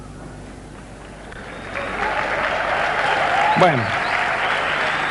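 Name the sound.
audience applause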